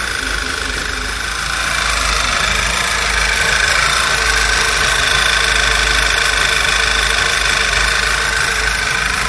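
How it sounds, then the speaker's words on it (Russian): Volkswagen Passat B7 with a 1.8 TSI engine idling roughly, misfiring and with a faulty whistling crankcase breather: a steady, close mechanical hum with an uneven, knocking pulse and a thin high whine, heard alone. "Проблема в этом, в неровной работе двигателя, в этом свисте сапун."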